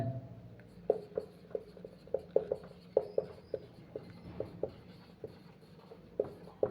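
Chalk or marker writing on a board during a chemistry lecture on quantum numbers gives steady rhythmic taps and short strokes over several seconds, close and moderately quiet, without talk.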